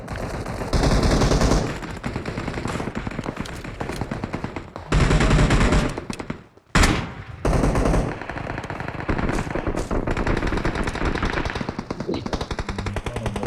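Automatic gunfire from the video game PUBG, loud rapid bursts of shots running almost the whole time with one short gap near the middle, while players talk over the shooting.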